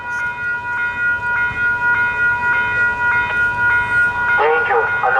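A train rolls past on railway tracks with a rhythmic clatter of wheels over rail joints, loud and close, ending in a brief squeal of metal.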